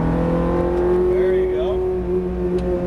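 A Ferrari F430 engine drones steadily at high revs during a track drive, a loud sustained tone with a brief rising pitch sweep in the middle, while an instructor talks over it.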